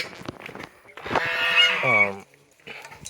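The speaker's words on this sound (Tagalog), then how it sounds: "So yung dalawang gansa." Loud honking from two geese, a few drawn-out harsh honks up close, with brief murmured talk before and after.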